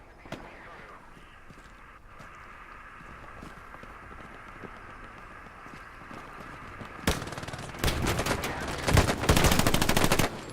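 Machine gun fire in the World War II video game Hell Let Loose, with distant scattered shots first, then loud rapid bursts of close automatic fire in the last few seconds.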